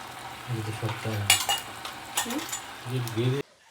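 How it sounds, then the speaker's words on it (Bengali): Fish frying in a pan with tomato in a home kitchen, a soft sizzle under repeated scraping stirs and clinks of a utensil against the pan, cutting off abruptly at the end. "মাছ ভেজে নিচ্ছি"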